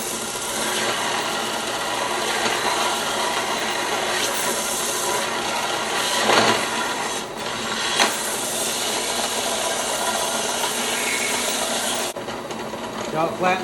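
A belt sander grinds steadily against the steel of tractor chopper knives, a continuous abrasive rasping hiss that swells in places and cuts off near the end.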